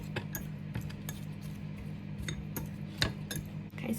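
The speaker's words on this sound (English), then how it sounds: "I'm just going to take the back of a spoon and just kind of squash down this apple" The back of a spoon squashes apple in a bowl for microwave porridge, giving faint, scattered metallic clinks and soft scrapes over a quiet background hum.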